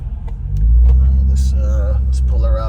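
A Chevrolet Corvette C6 engine lets out a brief deep exhaust burble, a loud low rumble that swells and holds for a couple of seconds close by, with someone speaking over parts of it.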